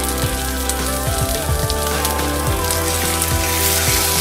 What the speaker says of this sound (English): you can preheat your stove right when you put your salmon on your skillet